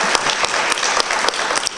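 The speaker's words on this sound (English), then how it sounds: "Give this whole event a round of applause." Audience applause at the PixelPop game festival, a loud, dense round of clapping from a crowd that continues steadily throughout.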